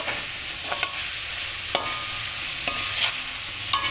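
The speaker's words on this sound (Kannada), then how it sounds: "ಇದಕ್ಕೆ ನಾನು ಈ ಎಳ್ಳು ಹಾಕಿಬಿಡ್ತಾ ಇದ್ದೀನಿ ಸ್ವಲ್ಪ ಬಿಳಿ ಎಳ್ಳು" White sesame seeds stirred and frying in hot oil in a pan for ragi poha churumuri give a steady close sizzle, broken by several sharp scraping clicks of the spoon.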